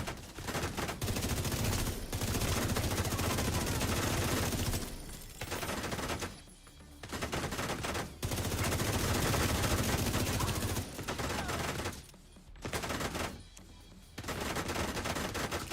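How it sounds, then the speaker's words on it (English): Gunfire in the video game The Division, loud sustained bursts of automatic fire and fusillades broken by short pauses, continuing across the whole stretch. "Where are these shots even?"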